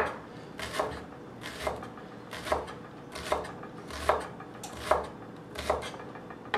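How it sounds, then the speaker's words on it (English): A kitchen knife chops a shallot on a cutting board with steady, evenly spaced knocks, roughly one every second, close and moderately loud over a low room hum. "I'm just going to take my knife and go down perpendicular, and then I get a nice little chop"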